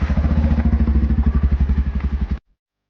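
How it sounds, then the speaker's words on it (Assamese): A motorcycle engine putters loudly and rhythmically nearby, a steady low chugging that cuts off abruptly. "এইফালে আমাৰ মিষ্টাৰে বাইক লৈ আছে। আৰু এতিয়া ময়ো বহি লওঁ আৰু।"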